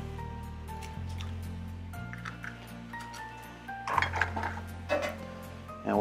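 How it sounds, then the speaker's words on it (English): Eggs cracked and dropped into holes of a metal pan for kale shakshuka, with clinks of shell and utensil against cookware, soft wet plops and faint tapping over a low steady hum. "you're going to go ahead and crack an egg. You're going to drop that right there into these holes"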